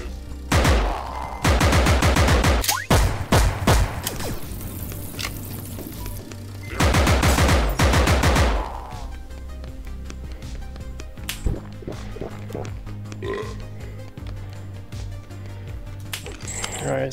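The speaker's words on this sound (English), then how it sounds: "They must have heard all the gunfire or something." Gunfire in the VR shooter game Compound: two loud bursts of rapid automatic shots, each a couple of seconds long, followed by scattered single pops and softer clicks with a voice murmuring underneath.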